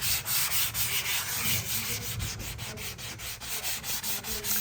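Sanding an interior wall surface after wallpaper removal: continuous close rasping strokes of abrasive rubbing back and forth in a quick steady rhythm, loud and alone.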